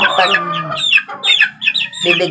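Young chickens cluck and peep in quick, close, chattering bursts, several birds overlapping with short pauses between calls.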